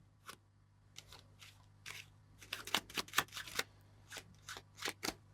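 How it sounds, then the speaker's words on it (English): A deck of playing cards is shuffled in quick, close bursts of riffling and flicking, with short pauses between handfuls and no voices. "you can shuffle the cards like this"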